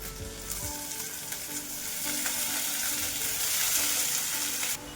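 Spring onion greens drop into hot oil with green chilli and garlic, and a loud, steady sizzle swells and holds with light stirring for about five seconds before it cuts off abruptly. No voice is heard.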